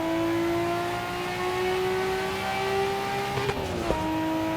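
A Nissan Skyline GT-R R34 in Assetto Corsa at the Nurburgring accelerates hard, its engine note climbing steadily through the revs, then two quick gear shifts snap the pitch down and it climbs again, loud and close with no talk.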